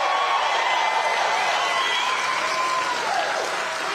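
A large crowd at a JD Vance campaign rally in Waukesha, Wisconsin, applauds and cheers loudly and continuously, dense clapping with whoops and shouts rising above it, with some voices mixed in.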